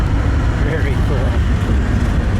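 A coral and white 1957 Dodge Coronet Custom Royal Lancer D500 convertible cruises a country road, its steady engine rumble and road noise rolling along loud and close throughout.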